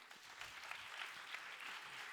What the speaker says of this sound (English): A round of applause for my panelists.